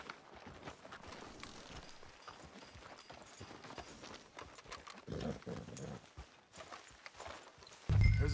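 Horse hooves clip-clopping along a street in the video game Red Dead Redemption 2, a continuous walking rhythm of hoofbeats with some muffled background ambience and a louder thump at the end.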